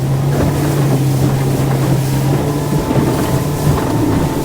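A Highfield ADV7 hybrid adventure boat motors over light chop, its engine holding a loud, steady drone with wind and water rush on the microphone throughout.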